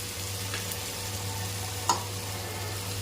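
Chopped tomatoes and onion cooking in a covered pan for a curry, with a faint, steady low sizzle throughout and one brief clink partway through; no one speaks.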